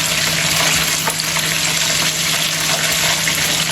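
French fries sizzling in hot grease, a loud, continuous hiss and crackle that stays steady throughout, with no talking.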